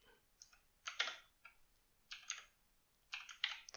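Bursts of computer keyboard typing come in several quick clustered runs of clicks with short pauses between them, close and fairly quiet, with no talking.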